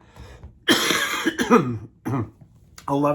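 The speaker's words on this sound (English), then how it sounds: "Yes, I still have a cough." A pair of loud, rasping coughs up close, followed by a shorter cough and a brief voiced throat sound.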